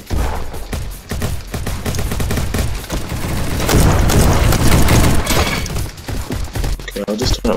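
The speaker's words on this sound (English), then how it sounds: "I'm about to set a flashbang" A flashbang grenade goes off in Roblox, a loud sustained burst of blasts and crackling that swells for a couple of seconds amid dense, busy game noise.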